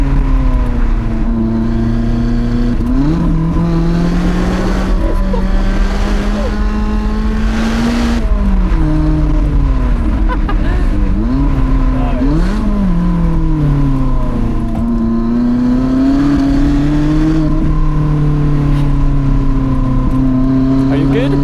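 A Lotus Elise is driven hard along a winding mountain touge road, its engine loud and close as it revs, climbs and drops between gear changes through the bends, with people talking over it.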